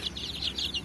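Chicks peep in rapid, repeated high chirps close by on a village farm in Punjab, Pakistan, a short burst with soft background noise.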